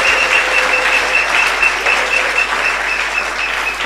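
A church congregation applauds and cheers for the word of the Creator, a dense continuous wash of clapping filling the room for several seconds.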